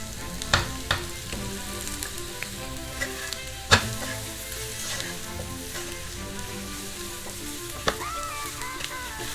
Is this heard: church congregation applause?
no